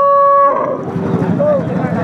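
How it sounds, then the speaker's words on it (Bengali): A cow moos loudly and close by in a long drawn-out call, followed by a shorter, fainter moo amid background noise at a cattle market. "এইদিকে একটা দেশাল জাতের দুধের গাবি দেখতে পাচ্ছি"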